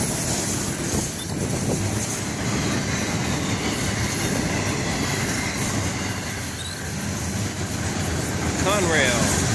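An FEC freight train rolls past with a steady loud rumble of railcar wheels, rhythmic clickety-clack over rail joints and a brief squeal near the end, while someone talks over it.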